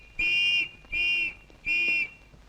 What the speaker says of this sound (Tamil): நீ யாரு இங்க வந்து விசில் ஊதிக்கிட்டு இருக்க?